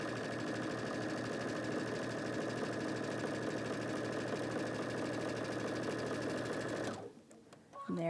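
A sewing machine stitches a half square triangle quilt unit with a steady, even mechanical whir and rapid needle clatter for several seconds, then stops abruptly, followed by faint handling sounds.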